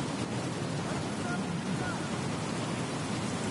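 Heavy rain during a raging storm in the video game Battlefield Hardline, a dense, steady hiss of water that fills the whole stretch with no pauses.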